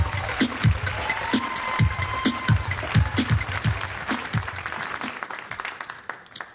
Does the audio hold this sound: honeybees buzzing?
no